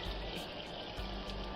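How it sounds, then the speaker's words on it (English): Tap water runs steadily into a sink while a wig is being rinsed, giving a continuous close splashing rush with slight surges and no talking. "So I'll just go ahead and turn the water on and we'll get her going."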